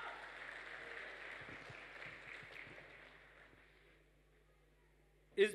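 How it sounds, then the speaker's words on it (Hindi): Audience applause for a company CMD at a gold recognition anniversary celebration, a sustained wash of clapping from a crowd that gradually thins and fades over several seconds, ending with a single loud knock or thump. "इनके लिए एक बार मन से जोरदार फ्रेंड्स ताली होनी चाहिए।"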